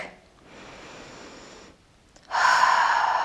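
Two audible breaths close to the microphone during chair yoga: a softer inhale, a short pause, then a louder, forceful exhale.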